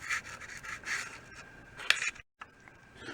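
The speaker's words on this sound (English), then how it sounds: "It still had a dip in it, so I built it up, and we're going to sand it down." Fiberglass built up on the bearing edge of a Gretsch drum shell being sanded, close, soft rubbing strokes in uneven bursts with one sharper scrape and a brief silent gap near the end, no talking.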